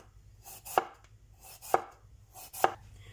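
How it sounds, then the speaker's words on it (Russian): A knife slices potatoes thinly on a board with three distinct, crisp cuts about a second apart, close and fairly quiet, with no talking. "Далее я беру картофель немного, у меня 700 грамм. И вот так вот тонко нарезаю на пластинке."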